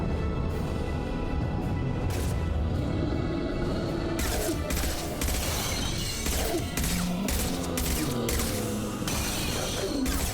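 A heavy weapon in Mass Effect 2 fires in loud, booming bursts amid crashes and shattering impacts, rapid blasts clustering in the second half.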